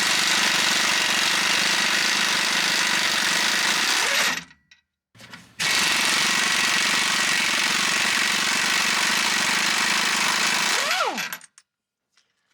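Impact wrench rattling off the front differential U-bolt nuts on a 2004 light duty truck, two long continuous bursts of loud buzzing hammering with a short break between, close up.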